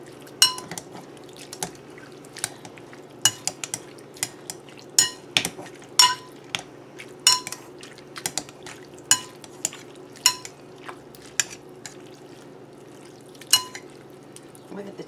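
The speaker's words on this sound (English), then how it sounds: "So now I'm going to take my potato masher. You see how that mashes up?" A potato masher pressing into cooked cauliflower in a pot, giving a steady series of sharp clacks and soft squelches at an irregular rhythm, close up over a low kitchen hum, with occasional talking.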